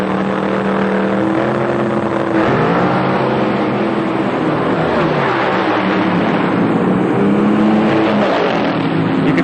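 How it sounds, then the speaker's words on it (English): Nitro drag racing car at a 1997 NHRA Pennzoil Nationals event, its engine dropping cylinders as it roars down the track, a loud sustained rasping drone with shifting pitch, heard from a distance with no talk. "See the nitro car dropping cylinders about 800 feet out"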